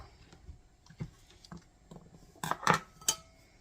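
Food for a California roll bowl is scraped and dropped into a bowl in a home kitchen, with soft utensil taps followed by a cluster of louder clinks and knocks near the end, no talking.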